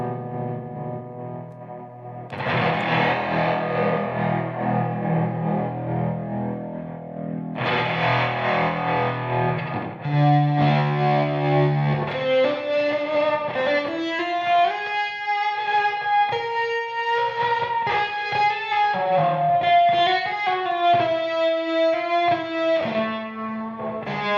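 Electric guitar plays chords and then a melodic line, washed in lush reverb with distortion, loud and sustained, notes ringing and trailing into each other.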